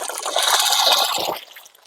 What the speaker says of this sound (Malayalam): വെള്ളം ഒഴിക്കണ്ടേ ഇമ്മ?